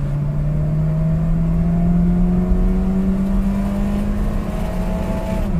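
An eleven-year-old car with 64,000 kilometers accelerates from 0 to 100 in drive mode, its engine note climbing smoothly in a rising whine over steady road rumble, heard from inside the cabin.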